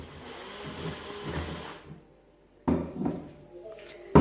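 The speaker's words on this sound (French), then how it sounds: "Et du coup on commence à percer la bouteille." An electric drill fitted with a diamond hole saw cuts into a glass bottle cooled with water, giving short bursts of grinding and scraping separated by pauses, with a sharp clink at the end.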